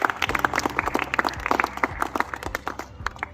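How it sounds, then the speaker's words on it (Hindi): An audience at a free medical camp in Bindukhatta, Lalkuan, breaks into brisk, lively applause for a guest, with dense overlapping claps filling the space. "इनका भी जोरदार ताली से स्वागत करें।"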